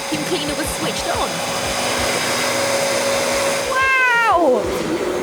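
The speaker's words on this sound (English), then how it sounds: "Did you hear the sound the motor made when the vacuum cleaner was switched on?" A vacuum cleaner motor whines steadily in a room, a loud continuous hum with a rising-then-falling tone as it winds down near the end, with faint background voices.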